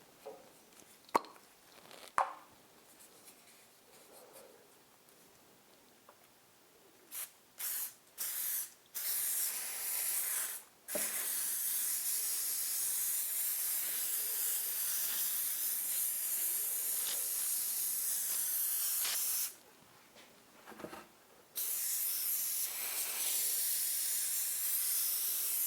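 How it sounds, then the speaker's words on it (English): Aerosol spray can hisses over scrap wood pieces in bursts: a few short sprays, then long steady blasts with a brief pause near the end, close and loud with no talk. "I'm going to go ahead and spray these."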